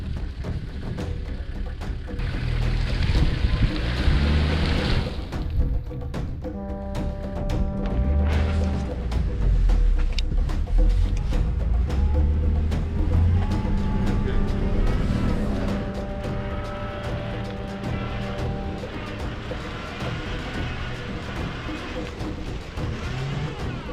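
A vehicle grinds along a rough, wet, swampy track in a Kenyan national park, with continuous engine drone and repeated bumps, thuds and knocks from the uneven ground.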